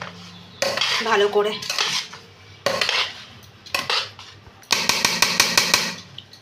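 Metal spatula scraping and clanking against a pan while egg fried rice is mixed, in several bursts of rapid rattling strokes with short pauses between them, close and fairly loud; a voice speaks briefly.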